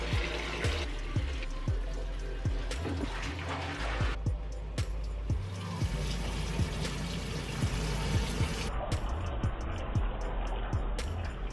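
A hotel bathtub fills for a bubble bath, with tap water pouring steadily and splashing close by for the whole stretch and no one speaking.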